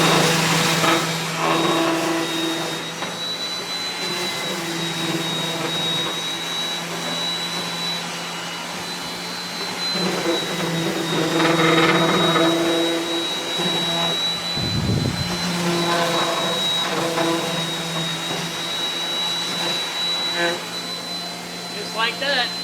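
A power saw cuts pallet wood for a dog bed, producing a loud, sustained whining roar with a high steady tone and slight surges as the blade works through the boards.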